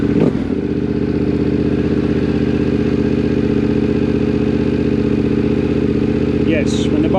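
A Yamaha Tenere 700 adventure motorcycle, part of a rally build, runs steadily at idle close by after starting, a dense even engine drone with some mechanical clatter filling the whole stretch, with a brief higher chirp near the end.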